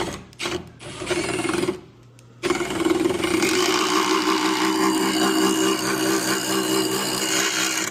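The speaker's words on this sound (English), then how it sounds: "So you take a spade bit, I got an extender. You want to watch what you're doing" A power drill with a spade bit and extender whirs in short bursts, stops briefly, then runs steadily under load as it bores through wood.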